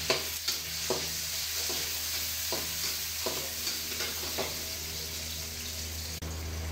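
Onion and tomato fry in a pan with a steady loud sizzle, while a utensil stirs them in several soft scraping strokes over the hiss, close up and with no talking.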